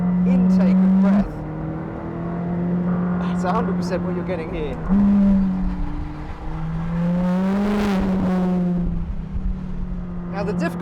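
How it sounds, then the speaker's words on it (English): A McLaren 620R on track gives a deep engine and intake roar from its roof scoop, rising and falling through gear changes, loud and close beneath someone talking. "you do really notice the rush of air through that roof scoop"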